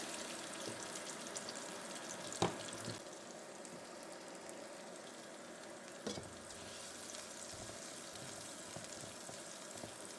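Ginger and garlic fry in half a tablespoon of oil in a pan, giving a steady close sizzle with a couple of sharp stirring knocks and no talking.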